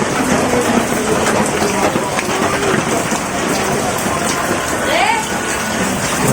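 Floodwater around a home rushes and patters in a dense, constant wash of water noise, with voices heard faintly through it.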